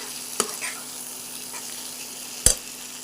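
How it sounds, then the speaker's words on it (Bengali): Potatoes that were fried earlier are stirred into spiced oil in a pan. Two sharp scraping knocks, one near the start and one near the end, sit over a faint, steady sizzle with no talking. "দিয়ে একটু নেড়ে জল দেবো"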